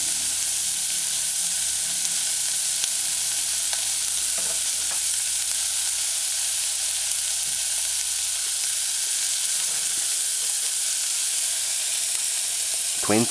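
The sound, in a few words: eggplant and saltfish sautéing in a pan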